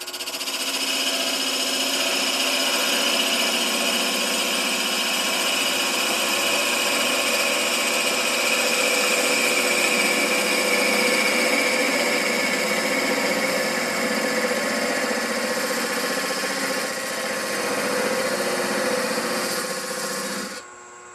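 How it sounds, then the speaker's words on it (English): A wood lathe spins at 900 RPM while a 1/8 inch parting tool cuts into a wooden train whistle cap, giving a continuous close whirring hum with a scraping cutting tone, steady for about twenty seconds, no talk. "I'm going to part off the cap using a 1/8 inch parting tool, and I'm turning it at 900 RPMs"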